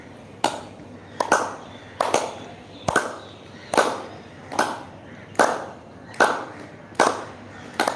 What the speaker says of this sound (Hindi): संपुट का आकार गोलाकार घुमाते हुए ताली बजाएं